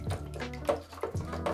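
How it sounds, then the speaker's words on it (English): A canister filter basket from a turtle tank is rinsed under running water, giving uneven splashing and dripping with a few louder gushes. It sounds close and fairly quiet, with no talking. "Also rinse out the filter basket"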